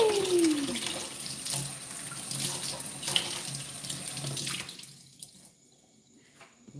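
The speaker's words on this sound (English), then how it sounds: "Wash your plantains and let's do it this way." Tap water running into a sink while plantains are washed in a home kitchen, a steady splashing stream that goes on for several seconds and then cuts off to near quiet.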